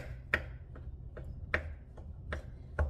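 A knife chops cold butter into tiny flecks on a board for scones, giving sharp, evenly spaced taps about every half second, close and fairly quiet with no talking.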